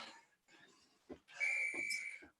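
A single whistle blown to end a timed workout exercise in a HIIT yoga class, one sustained shrill blast lasting about a second, with faint voice sounds and soft thumps around it.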